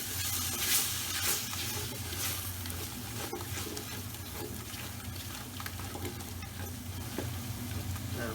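Mirza Ghassemi, a Persian eggplant mixture with tomato paste, salt and black pepper, sizzling and frying steadily in a pan, a soft continuous crackle close by with occasional stirring.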